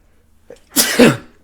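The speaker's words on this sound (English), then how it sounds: "I'm about to sneeze again." A single sharp sneeze up close, a quick intake of breath followed by a loud burst.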